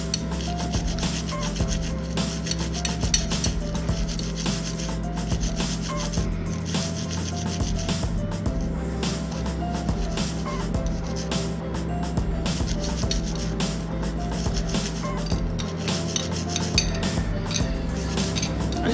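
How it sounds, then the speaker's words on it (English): Steady rubbing and scrubbing on gold jewelry with toothpaste, continuous close scratchy brushing with faint metallic clinks, a low background hum underneath. "I just scrub away like this."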